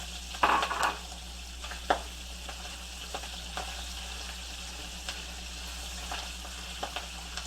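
Diced beef sausages frying with bacon in a pot, a close steady sizzle with a louder clatter as they go in and a few light stirring knocks afterward.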